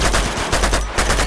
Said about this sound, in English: Shoot the lock!